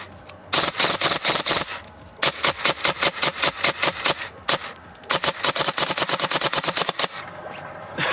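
G&G Armament airsoft rifle fired in three loud, close full-auto bursts of rapid, evenly spaced shots, with short pauses between strings and no talking.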